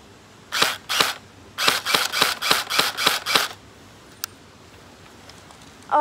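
An HK-style airsoft AEG electric gun test-fired: two quick shots, then a rapid burst of about seven sharp, mechanical clicking shots, close and loud, followed by a faint tick and quiet.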